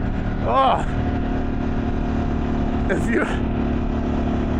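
Harley-Davidson Pan America adventure motorcycle engine fitted with a Vance & Hines exhaust, a steady mid-pitched idle running throughout with someone talking over it, with two brief rev swells partway through.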